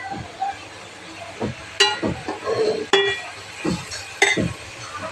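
Ground coconut being stirred into cabbage poriyal in a pan, with several sharp clinks of a utensil against the metal and soft scraping between them, close and moderately loud.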